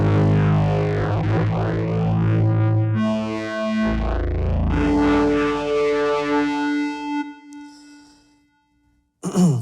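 A SNESynth synthesizer patch run through saturation and distortion, sustaining gritty, buzzy chord tones with swirling harmonics for several seconds before fading out, then a short loud burst at the very end; no voices.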